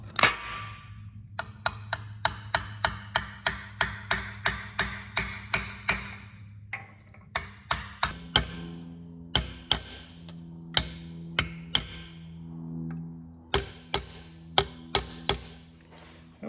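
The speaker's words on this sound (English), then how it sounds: "A little tappy tap tap." Sharp hammer taps driving a part into a C3 Corvette trailing arm, a long run of evenly spaced taps that starts quick and regular, then slows into spaced pairs and single knocks, close and clear.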